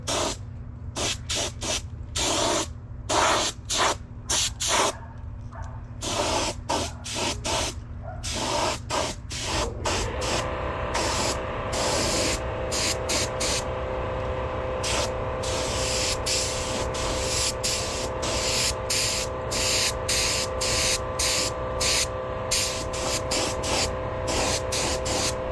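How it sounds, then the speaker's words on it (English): Aerosol spray paint going onto a 1972 Honda CB500 Four motorcycle part for a final coat, heard as long hissing bursts with short pauses, then one sustained spray, close and loud. "This is going to be the final coat, and I'm going to coat the back side too, so let me get it sprayed up here"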